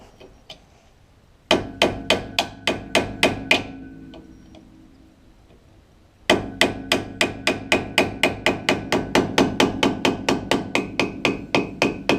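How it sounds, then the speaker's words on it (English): Hammer tapping the brake hub dust cap on a 1970 Camaro: two runs of sharp metallic taps in a quick, even rhythm, the second run longer, close and clear with no talking. "So first thing we have to remove is this dust cap"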